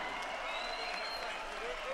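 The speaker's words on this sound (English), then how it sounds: "how about a round of applause for these two warriors?" Steady crowd applause at a boxing match after twelve rounds fills the space, a dense wash of clapping with some cheering mixed in, continuous and even throughout.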